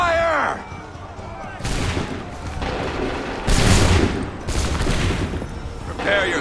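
Musket volleys from Assassin's Creed III erupt in several loud, booming crashes, each a broad burst separated by brief pauses, with shouted voices between the shots.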